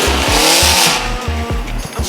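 At a car meet at a detail garage, a car's engine revs hard and loud and close by. Repeated rapid throttle blips give a pulsing rhythm, and a harsh tire squeal runs underneath.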